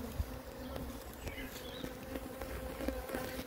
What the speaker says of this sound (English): So I've just moved these bees into a new hive.